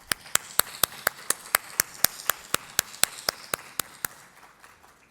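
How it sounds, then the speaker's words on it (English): At a formal vote of thanks, an audience gives a round of applause. Crisp, evenly spaced claps beat in a steady, quick rhythm throughout, close and fairly quiet, then fade at the end. "I think they deserve a huge round of applause."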